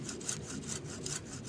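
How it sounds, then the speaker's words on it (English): A hand saw cuts through a pear tree limb in steady back-and-forth strokes, about four rasping pulls, close and fairly loud, with no talking. "I'm going to solve one problem right away just by sawing this limb right"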